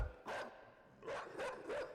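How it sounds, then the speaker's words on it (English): A dog barks in the background of a video game, three loud barks, one early and then two more in quick succession. "Dude, that dog is tweaking in the back."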